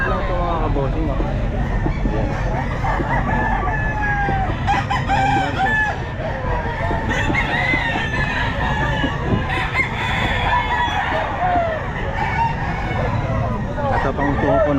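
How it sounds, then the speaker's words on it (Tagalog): Chickens and roosters at a pet market cluck and crow continuously, several birds overlapping at close range, with people talking under the busy poultry noise. "Mura ang mga manok."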